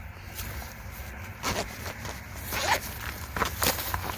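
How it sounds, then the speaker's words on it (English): Zippers on motorcycle pants are pulled open for venting, giving several quick raspy zipping strokes close up, with faint rustling of the fabric between them. "Zippers that come down for venting."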